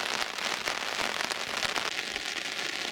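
Rain patters steadily on a fishing brolly set up on a riverbank beside a swollen river, a dense continuous hiss with scattered sharper drops throughout.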